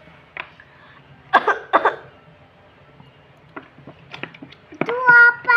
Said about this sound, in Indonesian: Itu apa? Batuk.